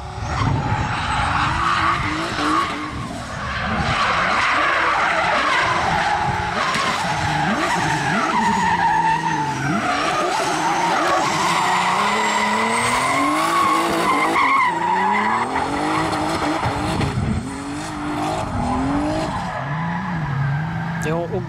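Folkrace cars skidding and squealing their tires through an elimination heat at Hultsfred, engines revving hard and near, with a commentator talking over the continuous rough racing noise.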